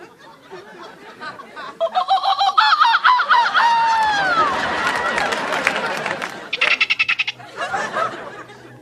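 A man imitates a string of bird calls in a 1990s sitcom comedy scene: honking, warbling whoops and swooping cries come one after another, loud and close, with a short rapid burst of clatter near the end.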